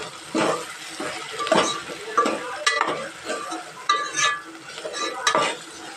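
Pakoda batter mixed with salt, a spoon or hand stirring it in a bowl with repeated wet slaps and scrapes in an uneven rhythm, close and moderately loud, with no talk.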